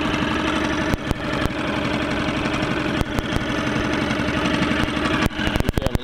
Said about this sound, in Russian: Холостой ход очень тихий, медленный.